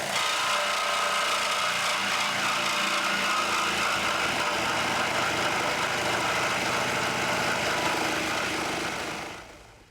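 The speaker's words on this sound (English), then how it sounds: "for a cleaner appearance, we're going to use this Sawzall." A Sawzall reciprocating saw cuts through metal with a continuous, harsh, buzzing rasp close by. The sound stays steady and loud throughout, then fades out at the end.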